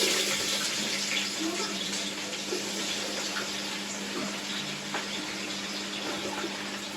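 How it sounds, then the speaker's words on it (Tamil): Chopped onions dropped into hot oil for a traditional biryani, a steady soft sizzle and hiss that stays even throughout, close but fairly quiet, with no speech. "எண்ணெய் நல்லா சூடாயிட்டு அதுக்கு பிறகு வெட்டி வச்சிருக்க வெங்காயத்தை போடுறேன்"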